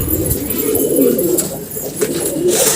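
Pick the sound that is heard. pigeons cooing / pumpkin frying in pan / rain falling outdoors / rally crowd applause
pigeons cooing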